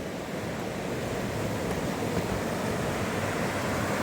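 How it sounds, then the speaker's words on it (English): The McLeod River rushes steadily beneath a trail bridge, a constant broad roar of flowing water with a touch of wind, with no voices. "And then there's the McLeod River."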